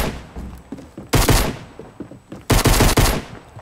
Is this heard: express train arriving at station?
no